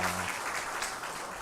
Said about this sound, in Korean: 우리 이천진 교목실장님 그동안 한 학기 동안 정말 감사하고 수고 많았다고 우리 격려의 박수 감사의 박수 보내드리겠습니다.